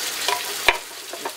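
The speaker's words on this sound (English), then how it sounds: "now let's put in the can of tomato" Canned tomato hits a hot pan with a soft sizzle and a sharp splashing burst midway, followed by a few faint scrapes close by.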